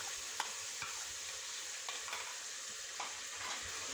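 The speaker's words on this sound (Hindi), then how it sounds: "अब इसकी भुनाई कर रहे हैं।" Yogurt fries with mutton and spices while being stirred, a soft continuous sizzle broken by occasional light clicks and scrapes of the spoon, with no talking.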